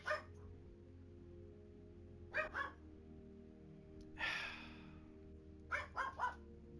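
A pet dog barks indoors near someone gaming: a sharp bark, then a double bark, a rougher drawn-out growly bark, and a final quick run of three barks, all close over a low steady room hum.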